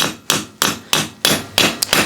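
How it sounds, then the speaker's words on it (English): A 2-pound hammer strikes a socket to seat a part during a Dana 44 rear disc brake conversion on a Dana 41 axle of a CJ-2A, giving six loud, sharp metallic blows at a steady moderate pace. "So I'm using like a 2-pound hammer, and you can see I'm not going full bore on it."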